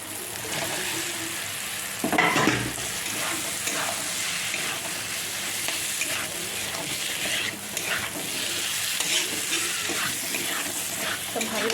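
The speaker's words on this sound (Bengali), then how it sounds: "করে কষিয়ে নেব মশলাটা পটল আলুর সাথে" Pointed gourd and potato fry loudly in a pan with turmeric and spices. A continuous dense sizzle carries scraping stir sounds and a spatula knock near the start.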